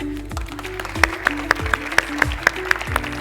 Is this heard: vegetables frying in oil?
no